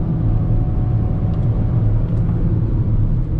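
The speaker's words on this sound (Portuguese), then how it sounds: "Coloque aí, ó, kickdown. Ó, Agora ele vem começando a crescer, ó. A turbininha." A 2020 Caoa Chery Tiggo 7 T with a 1.5 turbo engine accelerates on kickdown, heard from inside the cabin as a steady, loud low rumble.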